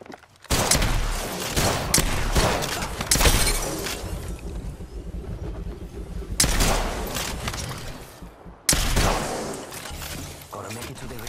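Bursts of gunfire in the Apex Legends video game, loud rapid volleys in several long stretches separated by brief gaps, with a player's voice talking over the game sounds.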